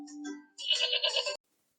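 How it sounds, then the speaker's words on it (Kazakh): A goat or sheep bleats twice nearby, a short wavering call followed by a louder, harsher, longer bleat, then silence. "Ешкі қой сияқты маңырайды."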